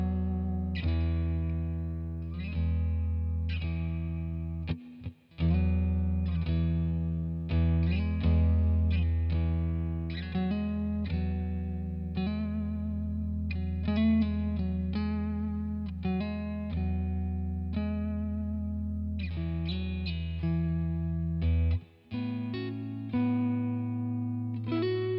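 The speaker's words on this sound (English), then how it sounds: "I'm going to try it with a Strat" A distorted Fender Stratocaster electric guitar plays chords and riffs through a Boss Katana amplifier with effects, sustained notes ringing, broken by two brief gaps.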